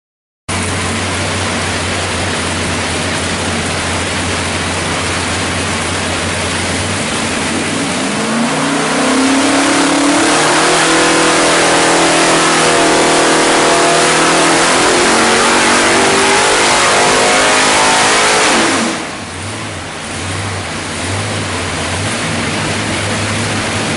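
A 572 Hemi fed by two Edelbrock 2x4 carburetors rumbles at idle, then revs up into a loud, rising roar that holds at high speed before dropping sharply back to a lumpy idle.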